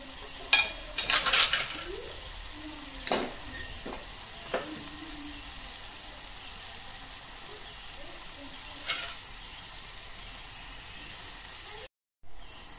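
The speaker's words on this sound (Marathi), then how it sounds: "कांदा आपला चांगला परतून झालेला आहे, टोमॅटोही असं मस्त परतून झालेला आहे" Onion and tomato sautéing in a pan for a Konkani-style sukka dish, a low continuous sizzle broken by a few utensil scrapes and knocks early on, then quieter frying until a brief dropout near the end.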